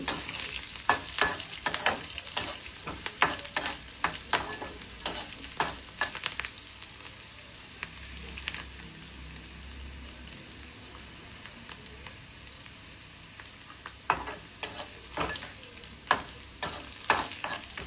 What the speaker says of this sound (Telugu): వెల్లుల్లి కొద్దిగా వేగాయి కదండి